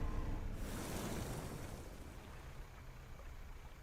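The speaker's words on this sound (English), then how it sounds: "I'm gonna ignore the spooky wind that seems to be pushing me in directions" Wind blows in the video game Don't Starve Together, a soft, steady airy rush that swells early and then settles, faint and with no talk.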